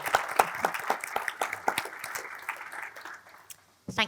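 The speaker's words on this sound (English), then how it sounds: "Probably have a little round of applause" Employees at a company event give the team a short round of applause: dense clapping that thins and fades over a few seconds, followed by a brief pause and a final sharper sound.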